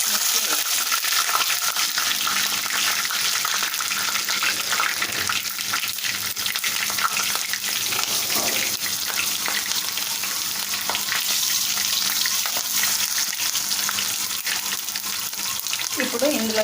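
Mustard seeds, cumin and green chillies fry in hot oil in a pan for a tomato and methi curry, a loud continuous crackling sizzle throughout with occasional stirring.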